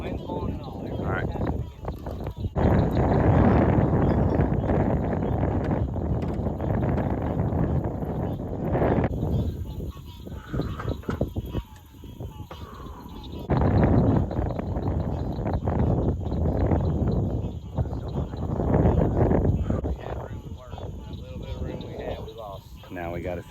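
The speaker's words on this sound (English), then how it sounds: "Wind's blowing and all." Wind gusting over open water around a 14-foot jon boat on an alligator hunt, a steady broad rushing roar buffeting the microphone, with voices talking faintly underneath.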